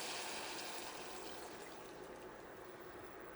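Water is poured into a pot over browned ground beef, giving a steady, soft rushing splash that fades slightly and stays fairly quiet, with no talking.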